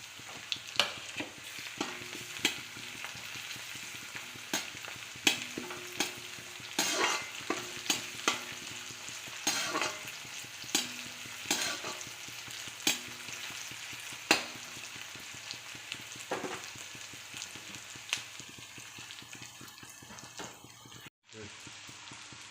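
Ginger-garlic paste frying in a pan for egg curry: a continuous sizzle broken by repeated sharp clicks and scrapes of a utensil stirring, with a faint voice underneath.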